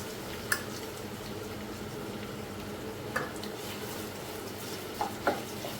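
Onions frying in a pan for a hotel-style Tamil egg curry, a steady low sizzle and bubbling throughout with a few brief stirring clinks, close and fairly quiet.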